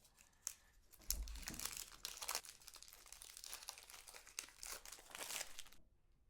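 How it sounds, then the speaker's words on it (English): Crinkly plastic packaging being unwrapped from a violin bridge for a 1/8 size beginner violin, a close, continuous stretch of crumpling and tearing rustles with no voices over it. "So here is our bridge. We're going to unwrap it."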